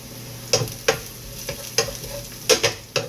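Pork being sautéed in a pan, a steady sizzle broken by about six sharp scraping strokes of a spatula or ladle, close and fairly loud, with no speech.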